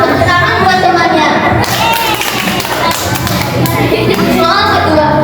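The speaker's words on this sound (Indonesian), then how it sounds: "Tepuk tangan buat temannya." Schoolchildren at a madrasah school health-education contest break into loud, close, rapid clapping that swells into a dense burst of many small hands, with children's voices and thumps mixed in.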